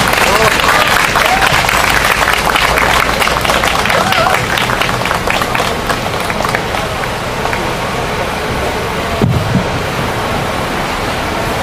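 An audience at a labour union rally and memorial gathering gives loud, sustained applause, a thick wash of clapping that gradually thins, with some voices mixed in.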